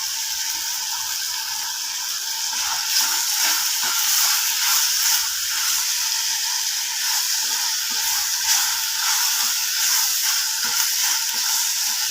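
Chopped tomatoes fry in a pan with salt and chili powder, giving a steady bright sizzle and hiss that holds at an even level throughout, with no talking.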